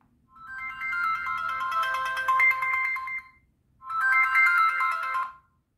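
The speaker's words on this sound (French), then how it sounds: "je vais vous faire écouter la sonnerie du téléphone" Danew Konnect 556 mobile phone ringtone playing a bright, melodic electronic tune in two bursts separated by a brief gap, close and clear with no voices.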